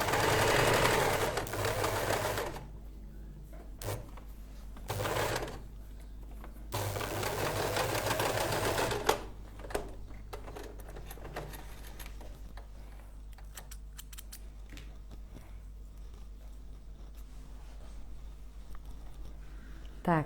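A sewing machine stitching the sleeve of a staple-fabric dress, running in several loud close bursts of rapid whirring, with quieter pauses between runs and light handling noises later.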